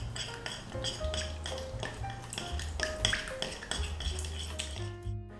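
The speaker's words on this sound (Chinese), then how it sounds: "鸡蛋和油混合起来比较慢，搅拌的时间会比较长一些。" A utensil stirs eggs, cooking oil and maltose for buckwheat cookies in a bowl, ringing out as a steady run of close metallic taps and light clinks against the bowl over soft background music, with no talk.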